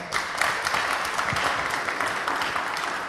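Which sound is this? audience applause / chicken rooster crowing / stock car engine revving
audience applause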